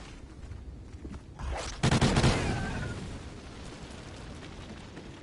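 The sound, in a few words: rapid SMG gunfire in Call of Duty Extinction video game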